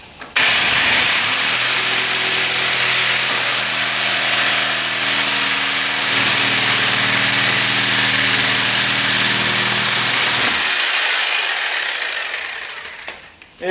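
A reciprocating saw cuts into a stripped 1962 Comet donor car, its motor holding a loud, steady whine for about nine seconds before winding down and stopping.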